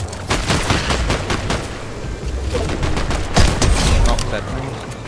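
Rapid, loud gunfire bursts from a Fortnite match, with shotgun blasts mixed into a dense, overlapping volley of shots that continue steadily throughout.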